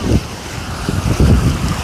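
Strong wind at Madhe Ghat blasting the microphone in heavy gusts, layered over a constant roar of water crashing down a waterfall.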